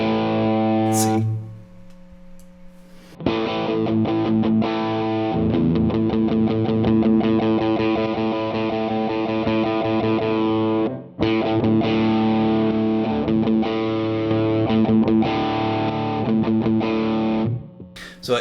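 An electric guitar on the bridge pickup plays through a True North Tweed Drive pedal with diode clipping at moderately high gain, giving loud distorted chords and riffs that ring out in long phrases after a quiet pause.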